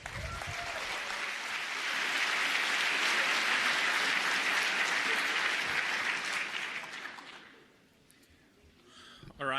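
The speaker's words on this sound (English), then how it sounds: "Please give a warm round of applause to our speakers." Loud applause from a conference audience at a console hacking talk swells and holds for several seconds, then fades away, followed by a brief voice at the end.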